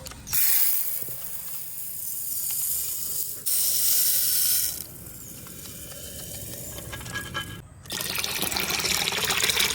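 Water pours steadily into a cooking pot for rice, a close, continuous splashing fill that breaks off briefly a few times, with no talking.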